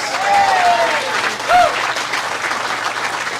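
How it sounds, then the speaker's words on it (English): Loud applause fills the room at a harness racing Hall of Fame induction ceremony, many hands clapping together while a few voices call out briefly above it. "Give them a round of applause, please."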